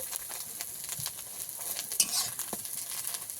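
An egg frying in oil in a pan while cooking a Bengali greens dish, a steady faint hiss with a few light scrapes of stirring, no voices.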